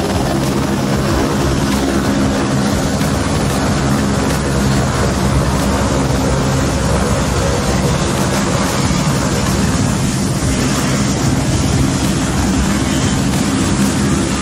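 Bell 206 helicopter hovering just off the ground, its rotor and turbine making a loud, steady, continuous thrum and whine heard up close throughout.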